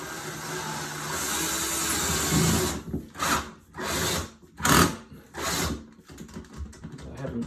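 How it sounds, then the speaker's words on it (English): A power drill runs steadily, then whirs in several short bursts with brief pauses between, close by and loud, drilling a pilot hole into a wall for a screw. "we'll drill a little pilot hole so that the screw can go in more easily"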